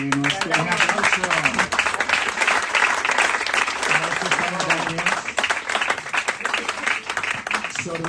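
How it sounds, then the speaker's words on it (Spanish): An audience at a book presentation breaks into sustained, dense applause, loud and close, with a voice speaking over the clapping. "Un aplauso."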